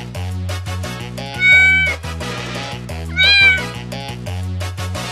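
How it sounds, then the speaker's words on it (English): Two drawn-out cat meows over a steady musical background, the second slightly higher and longer than the first. "What animal makes this sound?"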